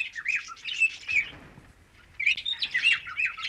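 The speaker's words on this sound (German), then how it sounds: "So anmutig die Vögel zwitschern" Small birds chirp and tweet in busy bursts at a house where birds are being fed, pausing briefly midway before the twittering resumes, with no talk.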